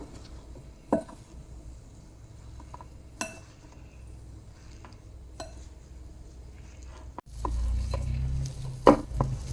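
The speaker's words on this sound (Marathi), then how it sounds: "इथे एक चमचा मी तीळ घालते आता छान असं हे मिक्स करून घेऊ आपण" Sesame seeds being stirred into a coriander cutlet mixture with a spoon, heard as sparse soft taps and clinks against the bowl over a quiet background, then a heavier scraping rumble near the end.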